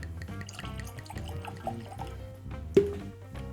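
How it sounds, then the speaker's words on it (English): Heaven's Door bourbon poured from the bottle into a glass: a soft, uneven trickle and gurgle of liquid with one sharper clink partway through, close and fairly quiet, with no voices. "let's get one poured"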